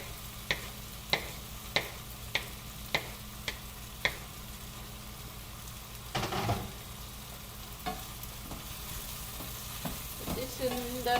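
Three chopped tomatoes fry in a pan for egg bhaji, with a soft steady sizzle under a run of sharp, evenly spaced taps, then stirring and scraping noises.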